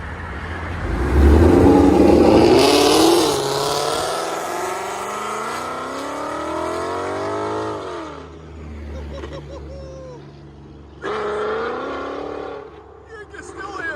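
A Procharged Ford Mustang GT with a 5.0L V8, headers and sport exhaust revs hard nearby. One long roaring climb swells and falls away, then a second shorter blip rises before settling.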